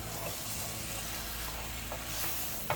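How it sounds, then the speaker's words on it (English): Potatoes stirred into a pan of mince curry frying on the stove, giving a steady, close sizzle and hiss with faint scraping of the stirring throughout. "So I'm just going to put the potatoes in. I'm gonna mix this."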